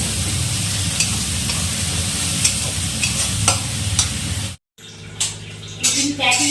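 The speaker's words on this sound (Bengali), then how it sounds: "এই যে আদা রসুন টমেটো দিয়ে ভাজা হচ্ছে মাছের ঝালটা করতে দিই" Ginger, garlic and tomato frying for a fish curry, a steady close sizzle with stirring scrapes, then a brief cut and a different stretch of clattering kitchen sounds, with a voice talking over it.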